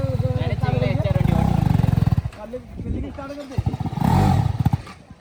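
A motorcycle engine revs hard in first gear, loud and close, its throttle blips rising and falling in bursts while someone talks over it.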